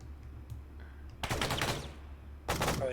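Automatic gunfire in the video game ArmA 3: two loud, rapid bursts of shots, the first lasting about a second and the second starting near the end, over a steady low background hum.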